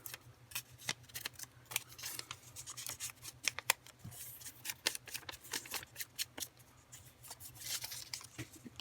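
Scissors trimming glued collage paper for a planner page, recorded up close: many quick, faint snips and paper rustles in an irregular stream, with no voices over them.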